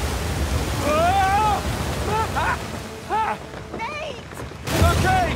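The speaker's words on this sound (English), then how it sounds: "Waterfall! Waterfall!" Rushing waterfall in an action-adventure video game, a steady broadband roar of water filling the scene beneath frequent shouted voices from the characters.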